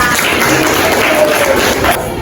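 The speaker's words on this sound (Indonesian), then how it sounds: "Beri tepuk tangan dulu buat Rama" Classroom applause for a student named Rama, a burst of clapping from a group of pupils that fills the whole moment, steady and dense before easing off slightly at the end.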